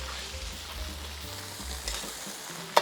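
Pinoy-style fried rice with shrimp frying and toasting in a pan gives a steady, close sizzle with stirring scrapes throughout, ending in a sharp clank of utensil on pan.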